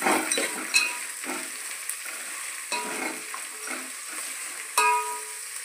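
Green chillies and carrot sizzle in hot oil while a ladle stirs and scrapes them around the pan in repeated close, clattering strokes over a constant frying hiss.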